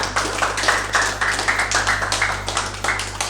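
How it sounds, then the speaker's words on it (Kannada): A person at a therapy session claps hands loudly in a quick, steady run of sharp claps, close and fairly even in strength, with no talking over them. "ಜೋರಾಗಿ ಚಪ್ಪಾಳೆ."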